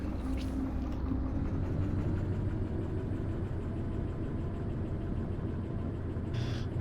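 Locomotive engine running in the train game Derail Valley, a steady low rumbling diesel drone with a grinding mechanical texture, close and constant, with a brief hiss near the end.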